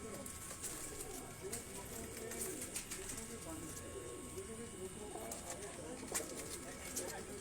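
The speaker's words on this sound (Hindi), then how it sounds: "ये वो चीने कबूतर हैं दोस्तों" Chinese pigeons cooing steadily on a Lahore rooftop in Johar Town, with soft repeated coos and chirps layered over constant outdoor background noise.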